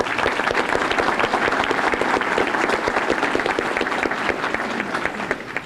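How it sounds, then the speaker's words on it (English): Sustained, full applause from a large audience at an academic awards ceremony, dense and even throughout before easing slightly at the end. "we give her a round of applause"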